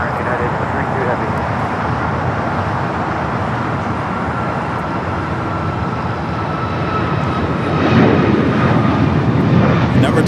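An airliner's engines roar steadily at LAX during a takeoff run, loud and sustained, swelling toward the end, with a voice talking over the noise.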